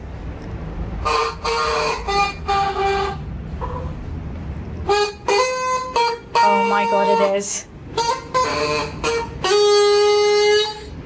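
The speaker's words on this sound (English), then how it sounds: "practicing the bagpipes" Bagpipes being practiced: drones and squawking notes start and stop in uneven bursts, loud and nearby, while a voice speaks briefly over them.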